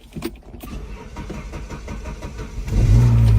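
A car engine cranking with a rhythmic starter chug before catching and settling into a loud, steady idle, heard up close.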